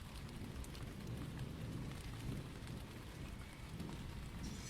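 Rain and thunder sound effect from an animated Hindi horror story: steady, dense rainfall patters continuously while low thunder rumbles and swells underneath, with no voices.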